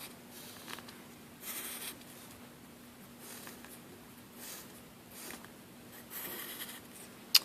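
A pen scratches across paper as it draws a divider line during handwritten math work, several short strokes spaced through the quiet passage, close and soft.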